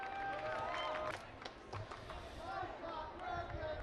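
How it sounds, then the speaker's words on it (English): Brighton fans cheer at a 2013 high school boys soccer match against Alta in Rio Tinto Stadium, a steady, distant roar of crowd noise running throughout with voices mixed in. "this has the Brighton faithful cheering now"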